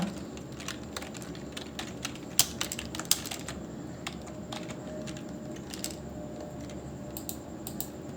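Keys clatter on a computer keyboard while text is entered into an Excel cell, a quick, uneven patter of close clicks with a few louder strokes and no talk.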